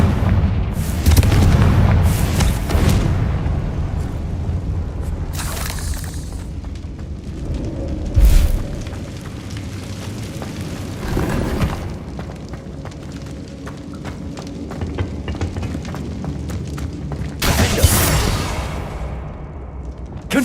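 Repeated Confringo blasting-curse explosions in Hogwarts Legacy burst out as loud booms amid dense combat noise, with the strongest blasts near the start and again at the end.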